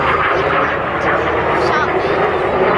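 Red Arrows display jets flying the vertical break at the Sunderland Air Show 2012, a steady loud roar of jet engines filling the whole moment with no pause.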